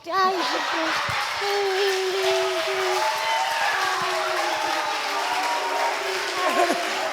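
An audience at a French comedy show applauding and cheering, a dense, sustained wash of clapping that carries on steadily under people talking.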